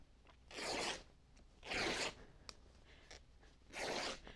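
Fabric torn by hand along a straight line for quilting, three separate rips, each a loud, crisp tearing burst of about half a second, with quiet gaps between them and no talk.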